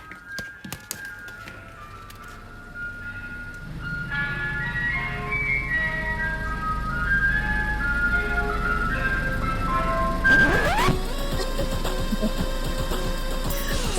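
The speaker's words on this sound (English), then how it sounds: "There was a Mr. Whippy van driving past." A Mr. Whippy ice cream van plays its tinkling chime melody while driving past, growing louder as it approaches over steady road rumble, then a vehicle swooshes close by near the end.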